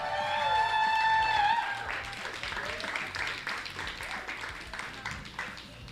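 Crowd at a BAT Outta Hell 2026 competition applauds the third-place winner, a burst of clapping that is loud at first and slowly thins, with talk and cheering mixed in.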